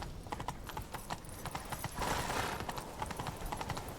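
Horse hooves gallop in The Witcher 3, a fast, steady clip-clop rhythm close by that swells briefly midway, with no talking over it.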